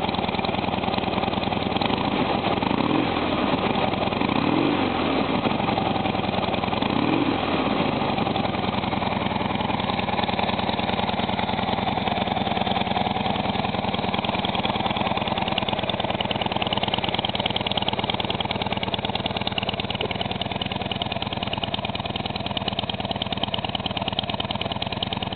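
A 2011 Harley-Davidson Wide Glide with its stock exhaust idles steadily and alone, a deep, even engine rumble that stays at a constant level and close by throughout.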